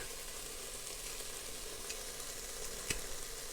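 Onions cooking in a pot for beef stew give off a faint, steady sizzle with soft crackles and one sharp clink near the end, heard alone without voices.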